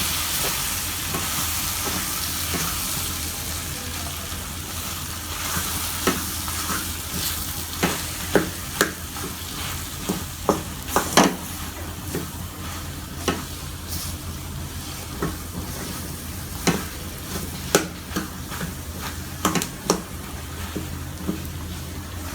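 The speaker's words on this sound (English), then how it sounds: "Mix this well." Mashed boiled cassava is stirred in a pan, with steady low sizzling broken by repeated scraping clicks of the spoon against the pan, moderately quiet and without any talk.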